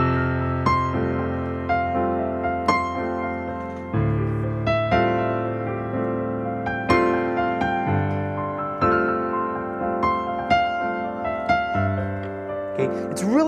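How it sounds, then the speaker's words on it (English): Guitar strumming a single chord in a steady sixteenth-note rhythm, fast even strokes with regular accents, close and fairly loud with no talking. "16th notes sound like this"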